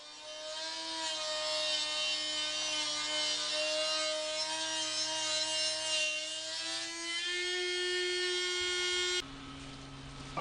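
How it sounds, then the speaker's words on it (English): A Dremel rotary tool with a cutoff wheel grinds steadily into the metal of a dented floor brace, a continuous high whine with tonal harmonics holding for about nine seconds before cutting off abruptly. "I used the Dremel tool and a cutoff wheel attachment to open the slit up a bit so that it'll lay flat"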